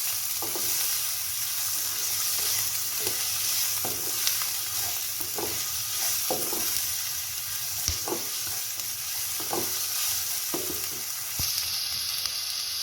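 Chopped onion and ginger garlic paste fry in hot oil, a steady close sizzle running throughout with scattered clinks and scrapes of stirring, and no talk over it.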